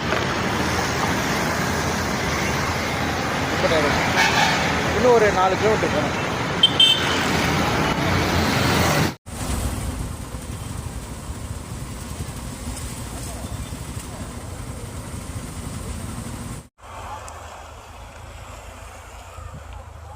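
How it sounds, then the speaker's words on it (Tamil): Heavy road traffic in Villivakkam, Chennai, heard on the move as a dense steady roar of engines buffeted by wind, broken by two abrupt cuts, while someone speaks briefly over it. "டிராஃபிக் வேறு சரியான டிராஃபிக், பயங்கர டிராஃபிக்."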